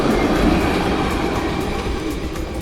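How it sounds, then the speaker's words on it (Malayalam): A Barcelona metro or tram pulls in with a steady, loud rumble of wheels on rails and a broad rushing hiss that holds even throughout, heard close with no voices. "അവിടെ മെട്രോ വരുന്നു, ട്രാം വരുന്നു."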